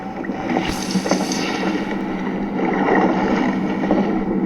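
A boat engine in the Free Fire battle royale video game, a steady droning hum with windy rushing noise, moderately loud and continuous.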